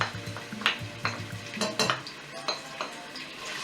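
Chopped onion for an okra stew hits a hot pot with a close crackling sizzle, punctuated by repeated spoon scrapes and metallic clinks against the pot in an uneven stirring rhythm.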